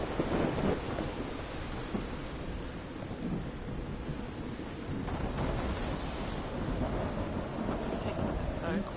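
Steady rain and rolling thunder from a stormy night scene in the seaside adventure game Call of the Sea, a dense continuous wash of rumbling and hiss at even loudness throughout.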